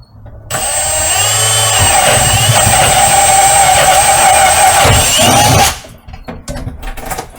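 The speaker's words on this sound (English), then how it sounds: "we're gonna just drill some holes at the bottom here." A loud, steady high-pitched power drill with a carbide bit drilling holes, grinding continuously for about five seconds, then stopping abruptly, followed by faint clatter.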